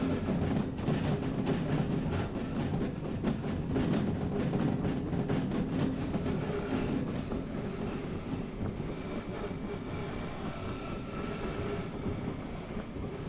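A train in the Derail Valley game rolls along with a steady, dense rumbling roar and a faint high-pitched wheel squeal running through it, constant throughout.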